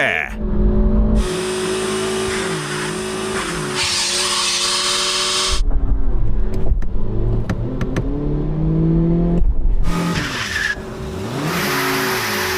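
A BMW car engine runs hard in an endurance test, revving loudly and cutting in and out, with rising and falling engine tones and brief sharp bursts in between.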